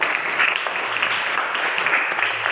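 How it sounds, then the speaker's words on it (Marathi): Loud, steady applause from an audience clapping for prize-winning students at a coaching-class award event, dense and continuous throughout with no talk. "त्यांच्यासाठी तुम्ही जोरदार टाळ्या वाजवा."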